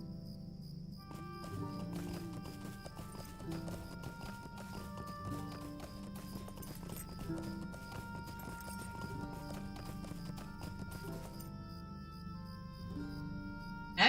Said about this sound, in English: That was definitely a stable horse.